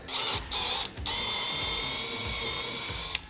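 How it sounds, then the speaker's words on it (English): A power drill whirs at high speed drilling a hole in a Ford F-150 truck bed, briefly stopping twice early on, then running steadily, with a small click near the end. "So I'm just going to drill a hole."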